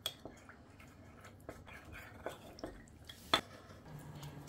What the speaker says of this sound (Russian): И хорошенько перемешиваем до однородности